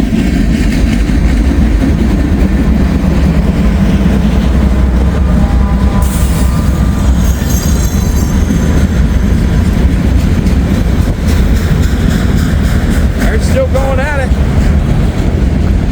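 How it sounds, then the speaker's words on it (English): A long freight train rolls steadily past up close, with a DPU helper locomotive mid-train; continuous loud rumble and wheel noise throughout, with brief metallic squeals near the end. "DPU coming through."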